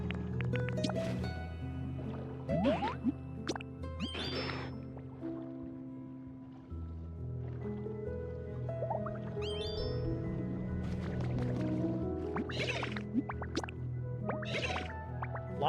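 Water dripping in the Pokémon Pokopia video game, a run of close, bright plinks and wet splashes at an irregular pace over a steady tonal music bed.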